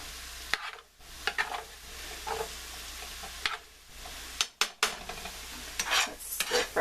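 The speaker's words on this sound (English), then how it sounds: "Fry these veggies here." Vegetables stir-frying in a pan, with a soft continuous sizzle broken by repeated scraping and tossing strokes from a utensil, close and fairly quiet.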